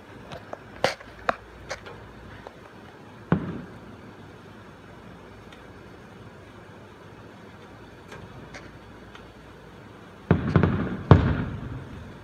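Distant fireworks pop and crackle in scattered single bursts over a quiet hiss, with a denser cluster of louder bangs near the end.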